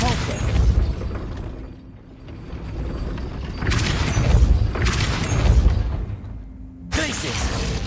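A Depulso spell cast in a video game sets off a string of booming, whooshing bursts, loud and close, with heavier blasts swelling and fading across several seconds.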